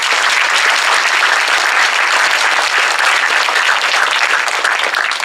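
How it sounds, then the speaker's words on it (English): A crowd applauds loudly and continuously, dense clapping from many hands sustained throughout without any talking. "let's give all of our sponsors a round of applause as well."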